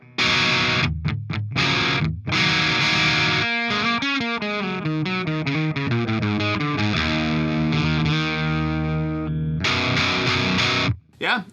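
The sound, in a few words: electric guitar amp breakup, STL AmpHub, top boost cranked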